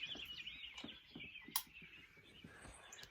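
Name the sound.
birds singing in the morning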